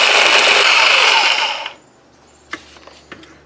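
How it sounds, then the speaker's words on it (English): A jigsaw fitted with a diamond blade cuts O-1 tool steel, giving a loud, steady, harsh grinding whine that stops abruptly, followed by a few light clicks and knocks. "So I'm using a diamond blade to cut this in my jigsaw."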